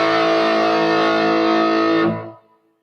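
A distorted electric guitar chord rings loud and sustained through an effects unit for about two seconds, then is damped and fades quickly to silence.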